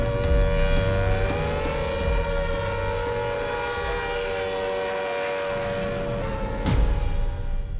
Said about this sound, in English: a warning siren.